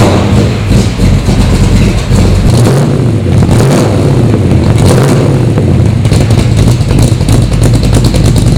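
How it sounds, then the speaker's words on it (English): A 1967 Chevrolet Nova SS pro touring car's engine rumbles loud and close, a deep steady idle with a couple of throttle blips swelling the roar. "Let's hear what all this rumble's about, because this is one of those cars that sounds as great as it looks."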